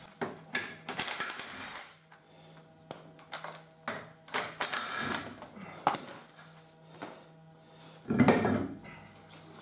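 Wheel nuts being taken off a London taxi wheel, a scattered run of close metallic clinks, clunks and ratcheting turns with short pauses between them.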